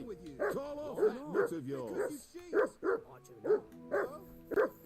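A dog in the Kingdom Come Deliverance 2 video game on PS5 whimpers and gives short yipping barks, a regular series of high whines and yelps repeating about every half second to second, close and clear.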